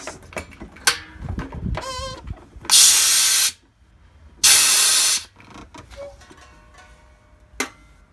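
Two loud bursts of CO2 gas hissing sharply from a beer regulator set around 20 psi, each lasting about a second, separated by quiet clicks and small mechanical handling noises.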